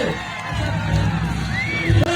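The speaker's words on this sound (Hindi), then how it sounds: "जोरदार तालियां" Crowd at a World Adivasi Day rally in Dungarpur, Rajasthan, cheering and whooping loudly with scattered shouts, a dense continuous roar of many voices rather than distinct clapping.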